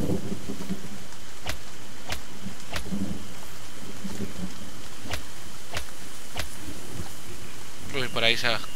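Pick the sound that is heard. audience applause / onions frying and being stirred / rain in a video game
rain in a video game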